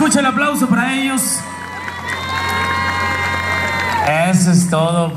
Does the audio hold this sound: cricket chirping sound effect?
no